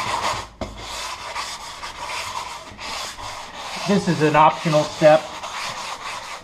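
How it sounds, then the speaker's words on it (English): Scratchy, steady rubbing of a sanding sponge against a painted wooden door, close by, with a person speaking briefly partway through. "you can just knock out very quickly with the sanding sponge"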